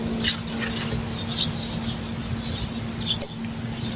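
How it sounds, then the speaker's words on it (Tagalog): Scattered bird chirps and tweets over a steady outdoor background hum, several short calls repeating throughout at moderate distance. "puro tunog ng ibon ang iyong maririnig dito sa amin"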